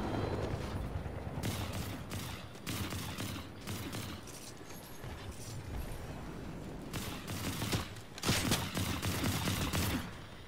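Video game gunfire in Fortnite, with rapid bursts and fusillades of shots cracking repeatedly over a continuous battle din, loudest near the end.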